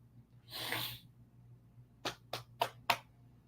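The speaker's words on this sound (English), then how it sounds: "Try not to sneeze." A single sharp sneeze bursts out, followed a moment later by a quick series of four short sniffs or snorts, close and fairly quiet.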